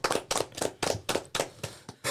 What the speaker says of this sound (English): Let's clap it up for Black History Month